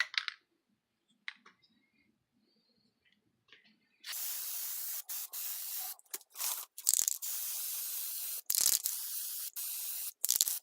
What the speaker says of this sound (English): I'm going to use some Plasti Dip